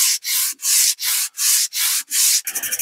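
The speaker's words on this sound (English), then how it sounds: "Sand one side of this." Sandpaper sanding one side of a metal piece by hand, seven steady back-and-forth strokes in a regular rhythm, close and fairly loud, with a brief clatter at the end.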